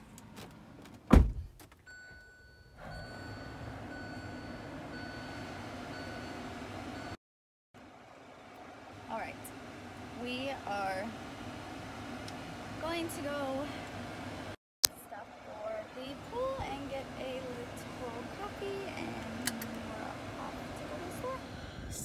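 A car's interior cabin hum drones steadily at low level while driving, cut by a couple of abrupt thumps and gaps, with someone talking throughout.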